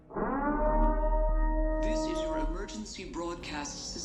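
A purge announcement siren begins as a sustained tonal wail, then a voice announcement follows over it, played from a video at moderate volume.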